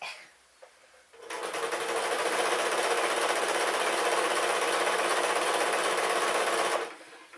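A sewing machine stitches a pink dress in one continuous loud whirring run lasting several seconds, starting abruptly and stopping cleanly, with quiet room tone before and after.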